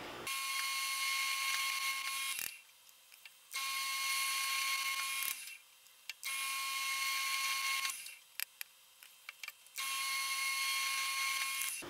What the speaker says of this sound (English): 17/64 drill bit chucked in the drill press here